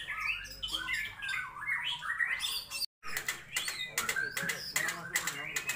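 Oriental magpie-robins (murai batu) at a bird sparring contest give sharp, repeated squawks and rapid chirping bursts, fairly faint and mixed with crowd talk, with a short break midway.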